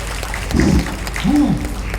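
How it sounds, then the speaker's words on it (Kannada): Loud applause at a felicitation ceremony for a Hubballi-Dharwad plumbers' association, a brief burst of clapping under a voice speaking. "ಜೋರಾದ ಚಪ್ಪಾಳೆ"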